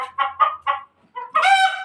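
A pet chicken clucks close and loud, giving three quick rhythmic clucks, a short pause, then a longer rising squawk.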